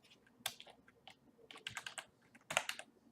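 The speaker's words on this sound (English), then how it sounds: "So if I just start typing," Quiet bursts of keystrokes on a computer keyboard, irregular clusters of close clicks with short pauses between them, no talk.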